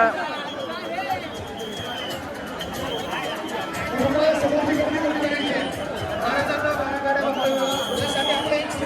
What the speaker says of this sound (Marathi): खूप गर्दी झाली आता इथे बघू शकता.